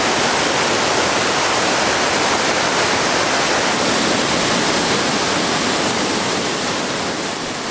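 A waterfall at a Vietnamese tourist site roars as loud, continuous, close-up rushing water, a dense unbroken wash of sound for several seconds with no voices.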